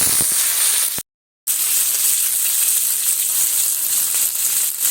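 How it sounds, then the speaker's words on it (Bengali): Stuffed bread fries in white oil on a flat griddle, giving a close, constant hiss of sizzling. The sound cuts out completely for a moment near the start, then continues evenly. "সমস্তটা আমি ভেজে নেব।"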